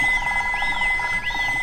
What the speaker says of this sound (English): Dr. Hamster's phone rings for a fourth time.